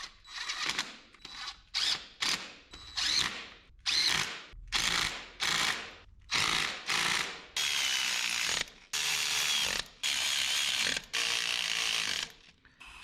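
Hand ratchet tightening a fitting on a 1967 Toyota pickup, a long run of rapid clicking bursts in steady back-and-forth strokes, close and clear with no talk.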